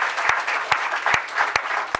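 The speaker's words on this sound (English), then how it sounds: "A round of applause for them as well." Brief scattered applause from an audience at the Irondequoit Public Library groundbreaking ceremony, honoring the library board members, with a few sharp claps standing out over a soft murmur.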